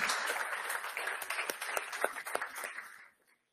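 Audience applause at a press conference sending off an Olympic athlete delegation, a dense burst of many hands clapping close by that carries steadily for about three seconds and then quickly fades out.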